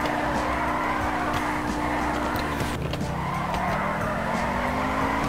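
Tires squeal in a continuous skid while a car drifts in the GTA 5 video game, with the engine droning steadily beneath, loud and sustained throughout with no talk.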